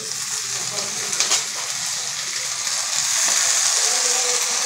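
Fenugreek leaves fry in a pan with a coarse chili-garlic paste, giving a steady loud sizzle and hiss with faint scraping of stirring throughout, no voice over it.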